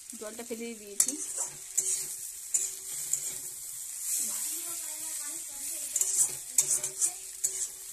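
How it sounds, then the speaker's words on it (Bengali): Boiled taro stirred in a pan of frying spices gives a soft, faint sizzle with scraping strokes of a spoon, while someone talks throughout. "ভালোভাবে নাড়াচাড়া করে নিতে হবে।"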